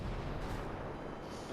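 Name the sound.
mortar fire in video game Ghost Recon Breakpoint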